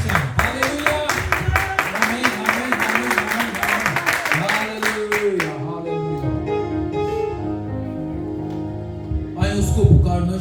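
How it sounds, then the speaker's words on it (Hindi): A church congregation at a Pakistani Punjabi-Urdu pastor's appreciation day service claps in quick rhythmic bursts for several seconds, under a voice speaking, before the clapping fades and the talk continues alone. "अभी भी तालियों की आवाज कम है।"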